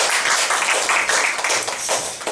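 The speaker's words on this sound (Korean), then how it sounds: "결과에 상관없이 우리 한번 준우승 했는데 박수 한번 할까요?" Congregation in a church clapping together for a runner-up finish, a dense, steady wash of many hands at close range, with faint voices mixed in.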